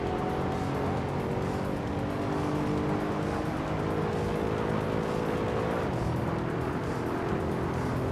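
2012 Mercedes-Benz C63 AMG race car in a video game street race at the Deutschlandring, a pack of engines roaring steadily at high revs off the start, dense and constant with no pause.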